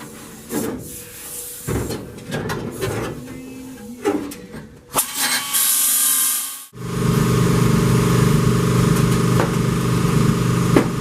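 Intermittent scraping and clunks, then a loud continuous grinding roar starts abruptly as metal is ground off a Corvair car floor, running steadily to the end.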